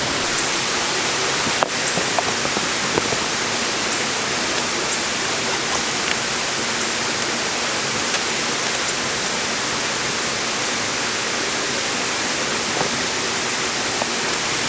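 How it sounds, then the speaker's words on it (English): Steady, dense rush of a waterfall on the Fiery Gizzard trail, a continuous broadband roar of falling water filling the scene with no breaks, loud and close. "It's a waterfall, believe it or not."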